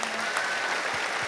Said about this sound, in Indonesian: Nah, tepuk tangan untuk temanmu